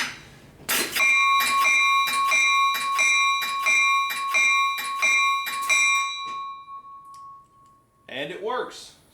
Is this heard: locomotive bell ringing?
yes